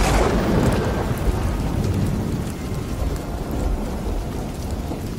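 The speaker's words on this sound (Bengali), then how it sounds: "আর শুধু ঝড় বৃষ্টির মধ্যে বজ্রপাতের তীব্র শব্দ শোনা যাচ্ছিল।" Thunder rumbles loudly through a nor'wester storm at night with heavy rain, a deep rolling boom at the start fading into a steady downpour.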